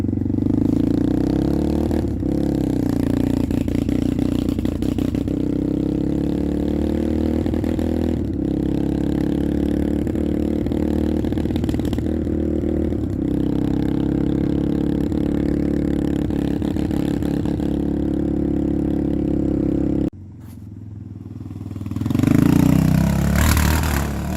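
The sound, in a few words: Yamaha Raptor 660 ATV engine running and dying at throttle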